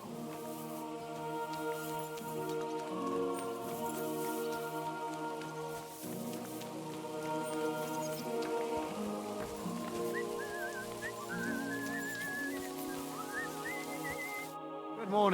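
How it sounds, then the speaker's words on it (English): Steady rain patters down in a medieval game world, a constant wash of drops running alone beneath layered tonal music and occasional whistling, with no talk during this stretch. "It'd be better if it wasn't raining"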